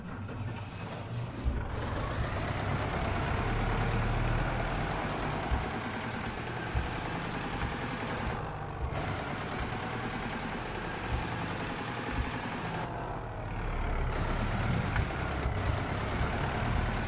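A tractor engine in the Farming Simulator 17 video game drones steadily at close range, with a few brief dips and swells in the low rumble and no talk over it.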